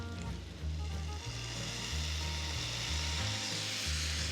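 A hot ghee tempering poured into pepper rasam gives a loud, steady, close sizzle, with a rhythmic low rumbling beneath it.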